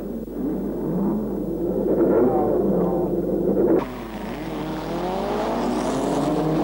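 Race cars, including a DS19 and a special Austin 750 in a 1957 Le Mans-style start, rumble and rev together as a group pulls away, a loud steady roar that drops slightly midway and continues with rising engine tones.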